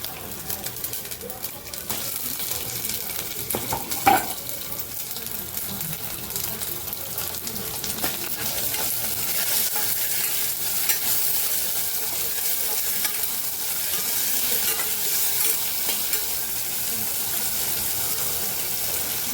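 Ginger-garlic-green chilli paste and tomatoes sautéing in oil for a brinjal and potato curry, a low continuous sizzle with occasional spoon scrapes and a knock, running steadily throughout.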